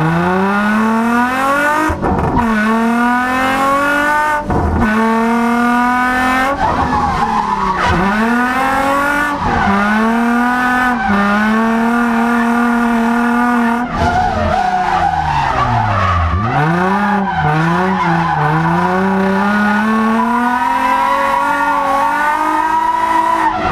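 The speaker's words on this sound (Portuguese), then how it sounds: "é muita troca de marcha" A drift car screams through a run, its engine revving up and dropping with frequent gear changes while the tires squeal and skid almost continuously, loud and close throughout.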